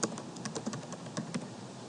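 Rapid keystrokes on a computer keyboard tap out a search phrase, a quick close run of light clicks over quiet room tone.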